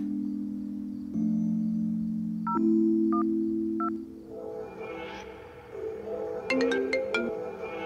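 An outgoing phone call connects: steady dial tones, a few short beeps, then a ringback melody of chiming electronic notes, clear and close with no talk over it.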